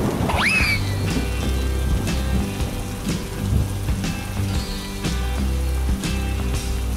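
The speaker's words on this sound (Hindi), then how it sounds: "देख कितना सुंदर बारिश हो रहा है" Steady rainfall in a comic cartoon scene, a continuous hiss of falling rain with scattered sharper drops. It plays under a droning musical backing, opens with a quick whooshing sweep and has no talk.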